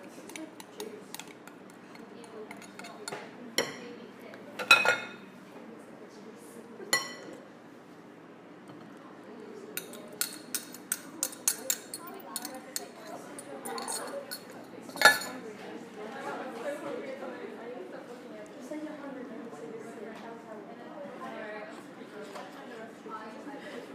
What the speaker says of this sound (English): And all of these wet ingredients now get mixed in